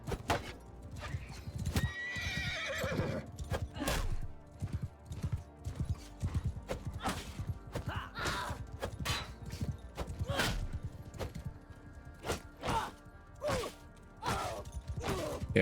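Cavalry horses and horse archers approach in a video game, hooves clopping in uneven bursts with horses neighing and whinnying among clashing impacts, moderately close and busy throughout.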